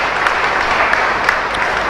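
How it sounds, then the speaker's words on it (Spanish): Loud, close applause from a congregation at a Catholic Mass, a dense, continuous burst of clapping with a few sharper individual claps standing out, no speech over it. "Fuerte aplauso para nosotros entonces"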